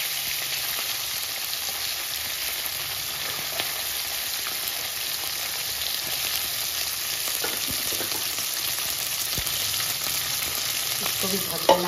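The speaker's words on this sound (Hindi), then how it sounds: "तो इसको मैं फ्राई करके निकाल रही हूँ और दूसरा जो फिश है वो मैं डाल दूँ।" Fish sizzles steadily in hot oil in a pan, a loud continuous crackle and hiss with small pops and a few sharper spatters toward the end.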